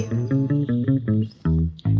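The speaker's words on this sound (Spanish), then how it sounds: "El bajo suena así." Bass guitar in a children's orchestra song, playing a bouncy line of short repeated low plucked notes at a quick steady rhythm, ending with a couple of longer held notes, loud and alone.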